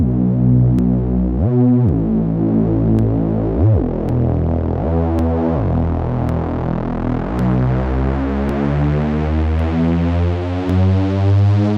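Loud, dense slap house synth build-up with layered tones sliding upward in pitch, pulsing with rhythmic ticks and brief dropouts, continuous throughout.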